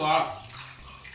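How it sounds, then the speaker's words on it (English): A sponge being rinsed in a bucket of clean water during caulking work, a brief close burst of splashing and sloshing that quickly fades to a quieter wet trickle. "Let me get my sponge rinsed out."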